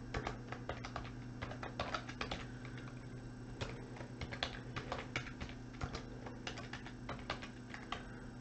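Names are typed on a computer keyboard in a quiet room: a continuous run of light, close key clicks in irregular bursts with no talking.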